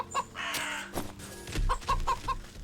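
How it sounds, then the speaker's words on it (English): Farm chickens on Ox's farm in the video game Wytchwood give a quick run of short, fairly close clucks in a bouncy rhythm over soft game background sound, with no talking. "More chickens."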